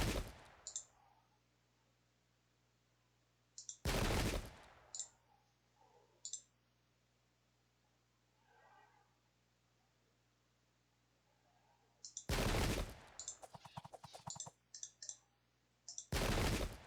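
Musket volleys in the Pike and Shot video game, set at Plassey 1757, come as a few sharp, loud cracks with short crackling bursts spaced apart. Quiet stretches with faint clicks sit between them.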